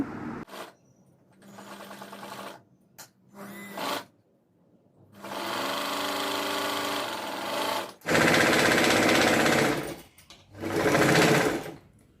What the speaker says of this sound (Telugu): అది ఫ్రంట్ నెక్కులకి కుట్టేసుకుంటున్నాము